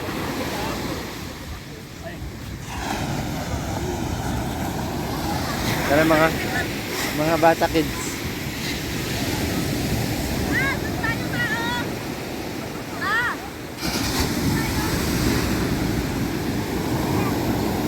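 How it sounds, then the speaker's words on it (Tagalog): Strong ocean surf crashes and rolls continuously on a Zambales beach in San Narciso, with wind buffeting the microphone; adults and children talk and call out over the steady roar of the waves. "Tingnan mo, ang lakas ng alon."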